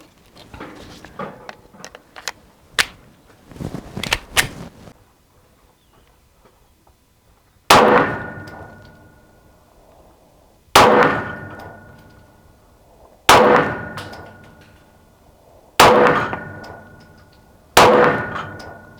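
A CZ P-10 M 9x19 pistol fires five sharp, loud shots at targets, spaced roughly two to three seconds apart, each with a ringing tail. Before them come quieter handling clicks and clatter.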